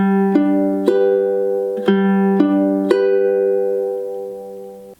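Ukulele strummed in a steady up-tempo pattern, several ringing chord strokes with sharp attacks, played alone and close.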